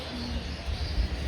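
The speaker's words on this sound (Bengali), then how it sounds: "এত সুন্দর পাখির আওয়াজ আসছে, তাই আমরা পুরো চুপ করে যাব, এটাই শুনবো।" Birds call at a zoo aviary in Darjeeling, soft coos and chirps at moderate distance over a steady background hiss, with no talking.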